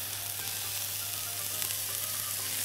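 Bell peppers sizzle and fry in a hot pan for shrimp rice, a steady close crackling hiss with a low hum underneath and no talk.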